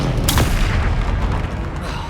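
A Confringo blasting spell explodes in the video game Hogwarts Legacy, a single heavy boom with a sharp burst near the start, followed by a deep rumbling tail that stays loud to the end.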